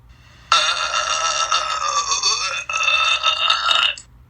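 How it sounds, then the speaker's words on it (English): A long, loud belch of about four seconds in a classroom, rough and strongly voiced with a brief break partway through, over low background hum. "I can't believe you burped in class."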